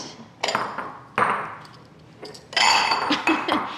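Bowls and a blender jar clink and knock in a kitchen while carrot ginger soup is served, with several bright ringing impacts and a longer rattling clatter near the end, fairly close and without speech.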